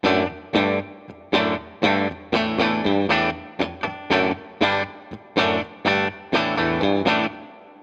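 Electric guitar with a coil-split single-coil pickup plays chopped rhythm chords with a bright, slightly driven tone, each strum ringing briefly before the next in a steady groove, with reverb.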